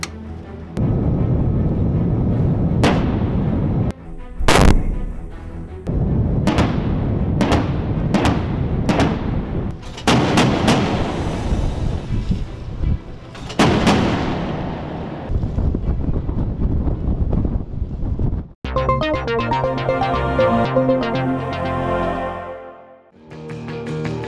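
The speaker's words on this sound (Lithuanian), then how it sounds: "Vyksta šaudymai taikinius." Naval guns fire at targets during a military exercise on the Baltic Sea: a series of sharp, loud bangs at irregular intervals over heavy wind noise, with a denser rumbling stretch near the end.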